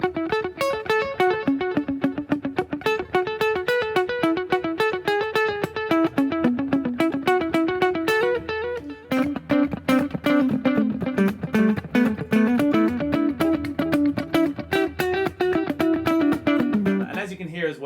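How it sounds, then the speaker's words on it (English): Electric guitar picking a quick repeating pattern, each note echoed by a rhythmic delay, continuous and bright with a short break midway. "I've got a triplet delay."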